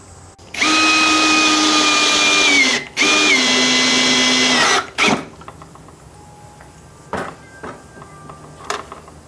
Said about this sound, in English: have your screw holes facing upwards so it's easier for you to screw them together